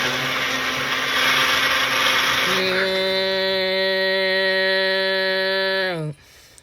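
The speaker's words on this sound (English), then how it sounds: "A Ninja blender." A Ninja blender runs loudly and close up. It starts with a gritty churning roar, then settles into a steady high-pitched motor whine and cuts off sharply near the end.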